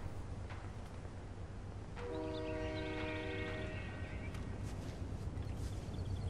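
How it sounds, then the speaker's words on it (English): A video game train sounds a multi-tone horn for about two seconds over a steady low rumble of rolling rail cars, fairly close and loud, followed by faint clicks and background noise. "I hate that the train's behind me."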